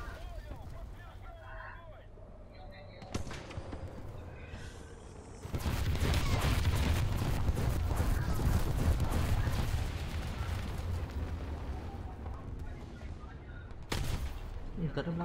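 Bomb explosions and gunfire in a War Thunder tank battle with a Soviet T-50: a dense, loud barrage erupts midway and lasts several seconds, with scattered sharp blasts before and after, and a voice talks throughout.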